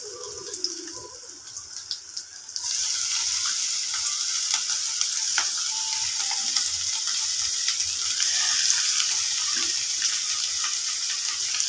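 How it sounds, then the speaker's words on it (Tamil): Chopped greens hit a pan of hot coconut oil and softened onions, setting off a loud steady sizzle that runs on for several seconds while being stirred, after a short quiet lead-in. "இப்போ நம்ம கீரைகளை சேர்த்திக்கலாம்."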